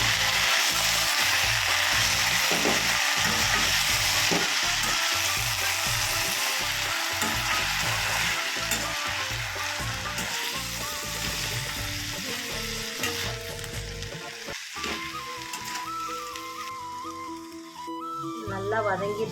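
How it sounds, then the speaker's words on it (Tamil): Food sautéing in a hot pan in a home kitchen, with a loud continuous sizzle and rhythmic stirring and scraping throughout, ending in a few clanks of the utensil. "நல்லா வதக்கி எடுத்துக்கணும்"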